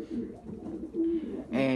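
Low pigeon coos sound close, in soft rolling phrases, ending in a louder, fuller call.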